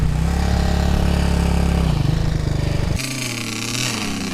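An enduro motorcycle engine at a race, buzzing loudly and close for about two seconds before dropping to a lower, steadier hum, with no voices over it.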